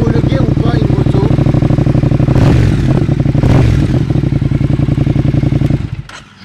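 Motorcycle engine running close by with a rapid, steady idle pulse and loud revving bursts in the middle, then cutting off abruptly near the end.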